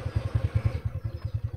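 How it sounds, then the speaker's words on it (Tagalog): A TVS Ntorq 125 scooter engine runs at idle close by, a rapid even putter pulsing steadily throughout, with no voices. "Kaya ramdamin nyo yung tunog ng inyong makina."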